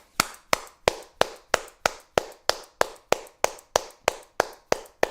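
Hands clapping at a steady, deliberate pace, about fifteen sharp, close claps spaced evenly and standing alone with no talk, used in place of a missing applause effect.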